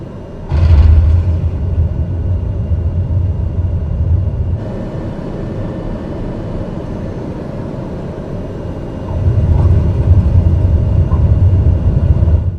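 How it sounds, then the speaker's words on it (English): A rough, imperfect landing in Flight Simulator 2020: heavy low thuds and a rattling rumble from the airframe come in two loud bursts, with a steadier, quieter cabin drone between them. No one speaks. "when you're doing a far from perfect landing, you're going to hear the impact and the physical rattle of the plane"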